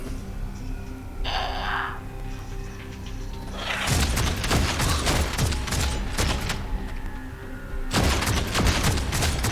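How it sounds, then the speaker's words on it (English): Bursts of covering gunfire in the Warhammer 40k: Deathwatch game during a Tyranid invasion, loud rapid volleys of shots and booms in two main clusters with a lull between. "A little covering fire."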